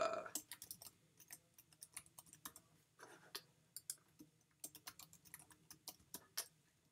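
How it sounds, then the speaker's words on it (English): Typing on a computer keyboard, a quick uneven run of close, crisp key clicks with brief pauses between bursts, heard alone. "So I'll type my name right here."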